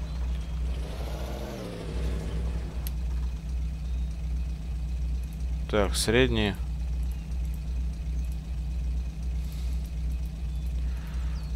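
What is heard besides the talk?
GAZ-66 truck engine in SpinTires video game mod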